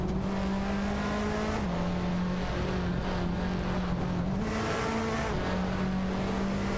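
Race car engines drone continuously in an AI racing video game, a loud steady engine note that shifts pitch as the cars change gear, with no talking.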